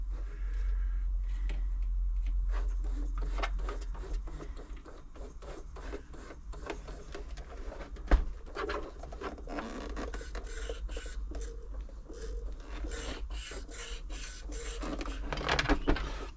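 A Janome Atelier 6 sewing machine runs quietly while lying on its back during servicing, giving a steady low mechanical hum with fast light ticking and creaking, close and continuous, one sharp knock midway and no talking.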